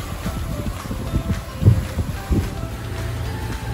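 A Leopard catamaran's port engine motors through an island's wind shadow, giving a low, steady drone that sits under constant wind buffeting on the microphone, with a few louder thumps along the way.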